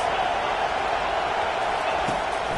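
Steady roar of a stadium crowd in the College Football 25 video game, a dense continuous wash of massed voices and cheering at constant loudness with no clear breaks.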